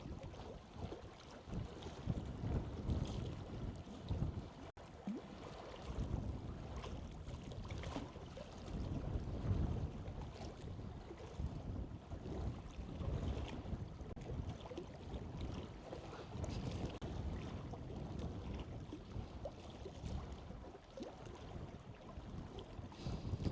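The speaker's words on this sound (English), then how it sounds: "when you add the wind, it gets a bit colder." Cold wind blows steadily at the shore of Kleifarvatn lake, Iceland, roaring and buffeting against the microphone. Low rumbling gusts continue with no voices.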